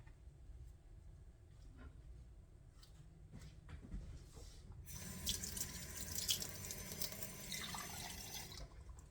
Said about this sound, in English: I'm only going to add that much water.